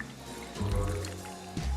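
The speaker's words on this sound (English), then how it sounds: "So we just put some water through there" Hot water pours through a paper filter in a Chemex to rinse it, a soft continuous splashing trickle close by with a low gurgle as it fills.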